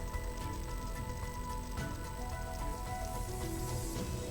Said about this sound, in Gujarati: સુરતના પલસાણામાં અવિરત વરસાદી માહોલ જામ્યો।